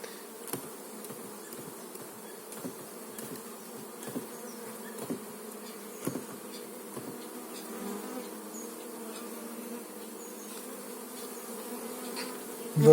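A dense, steady drone of honey bees buzzing close up around hive frames being shaken while making a split, with occasional light knocks and clicks scattered through the hum.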